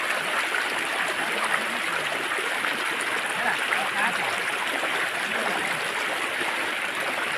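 Floodwater flows beside a house during the rainy flood season, giving a steady, broad rushing and trickling wash that never lets up.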